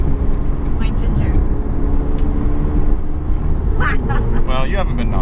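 Cabin of a 2024 McLaren 750S on the road, a steady low engine and road rumble filling the interior, with people talking over it toward the end.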